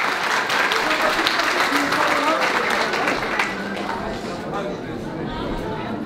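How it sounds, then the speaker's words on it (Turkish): Audience applause fills a hall at a Belgian Bulgarian-Turkish cultural and education association event, loud and steady for several seconds, then easing slightly. Scattered voices carry through the clapping. "şöyle kocaman bir alkış istiyorum"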